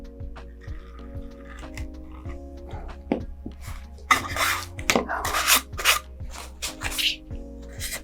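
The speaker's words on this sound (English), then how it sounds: "so now I'll sand it again" Sandpaper works over a smashed model rocket fin being repaired, giving bursts of close, dry rasping strokes over a low, steady hum.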